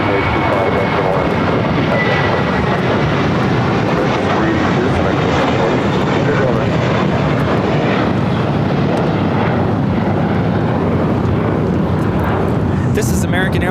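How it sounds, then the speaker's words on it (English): An American Airlines Airbus A321 takes off at LAX, its jet engines a loud, continuous broadband roar that holds steady and close throughout. "This is American Airlines 382 taking off to Boston on the A321"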